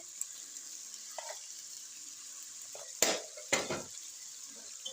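Cumin seeds sautéing in oil in a pot for beef pulao, with a soft low crackle, light stirring, and two sharp metallic scrapes of a spoon against the pot near the end.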